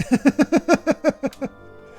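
Background music in Final Fantasy XIV: Shadowbringers, a bright, pretty melody of about nine evenly spaced plucked or bell-like notes stepping along in a steady rhythm, then fading into a soft tail with no voices.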